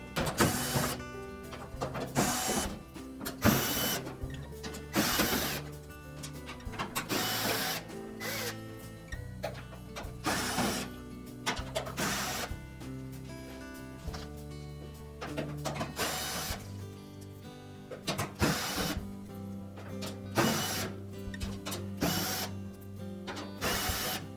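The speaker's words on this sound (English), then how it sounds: "Just remove all of the screws on the outside edge." Screws are backed out of the rear panel of a Frigidaire washer with a power driver, giving repeated whirring bursts and clicks that stop and start throughout, close and fairly quiet with no talk.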